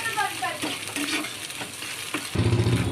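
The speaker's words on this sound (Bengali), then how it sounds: "এই যে ওটাকে দিয়ে ভালো করে একটু নাড়াচাড়া করে ভেজে নেবে" Egg tadka fries and is stirred in a pan, a steady sizzle with scraping stir strokes throughout and a louder, denser burst of sizzling near the end; no talking.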